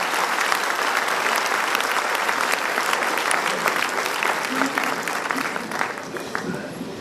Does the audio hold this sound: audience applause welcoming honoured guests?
yes